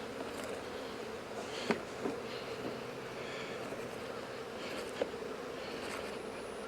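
Honeybees buzz in a steady, faint hum around an opened hive during a mite treatment, with a few soft clicks and knocks.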